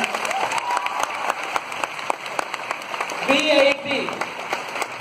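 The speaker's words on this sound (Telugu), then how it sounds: "ఫస్ట్ అందరు ఒకసారి క్లాప్స్ కొట్టండి" A college audience breaks into loud, continuous applause and cheering, the clapping filling the hall steadily while a voice calls out briefly over it.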